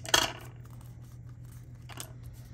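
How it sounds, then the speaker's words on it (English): Scissors trim paper ephemera with a sharp snip at the start, a second quieter cut about two seconds later, and a faint low hum in the background. "then we're just gonna trim that off on the other side."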